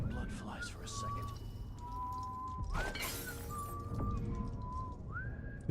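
A glass bottle thrown in the stealth game Dishonored 2 smashes once in a single bright, crashing burst midway through, set against steady wavering whistle-like tones and a constant low in-game ambience.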